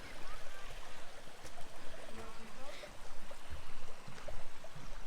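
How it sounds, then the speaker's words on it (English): A small shallow stream of running water in a wooded nature area, heard as a steady broadband gurgle and trickle close by, with faint background sounds and no clear speech. "And just a little bit of running water up here."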